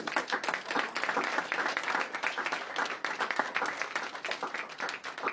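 A church congregation claps and cheers in sustained applause to acclaim Jesus during a French-language service, dense and continuous throughout.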